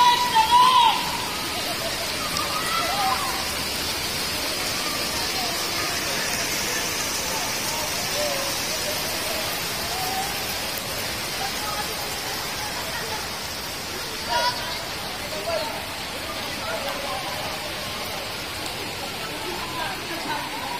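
Steady heavy rain pours during flooding, a dense continuous hiss that stays even and fairly loud throughout, with faint voices now and then under the downpour.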